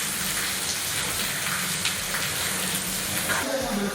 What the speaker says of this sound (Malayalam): കനത്ത മഴയിൽ വെള്ളം കുത്തിയൊഴുകുന്ന ദൃശ്യം ഇപ്പോൾ കാണിച്ചു തരാം